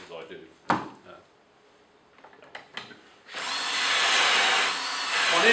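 An ECODRILL boring a hinge hole in MDF starts with a few sharp knocks and short whirs, then settles into a loud, continuous high-pitched drilling whine that runs close to the end.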